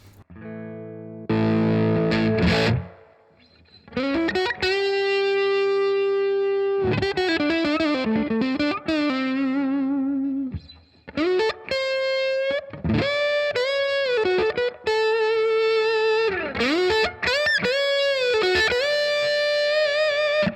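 A distorted electric guitar on its neck PAF-style pickup plays a riff in bursts of chords and bending single notes, with short pauses between phrases.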